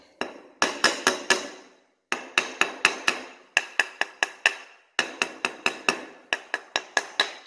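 Hard tool tapping on a concrete slab above a hollow void under a new build, in four rapid groups of sharp, close knocks, each with a short hollow ring, separated by brief pauses.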